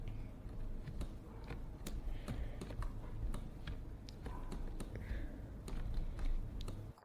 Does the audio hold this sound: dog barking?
no